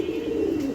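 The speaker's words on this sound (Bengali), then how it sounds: "দোপাজ কবুতর" A black Dopaj pigeon gives a brief, low cooing burr, close and clear over a quiet room.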